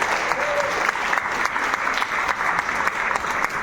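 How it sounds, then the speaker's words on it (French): An audience at a film festival award presentation in Meknes applauds steadily, a dense patter of clapping from a full room with no pauses. "On peut l'applaudir très fort."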